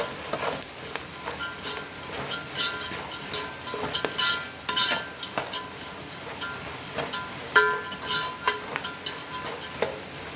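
Curry leaves sizzle and crackle in hot oil in a pan while being stirred, with a steady close frying hiss, spatula scrapes and occasional clinks of metal, and no voices.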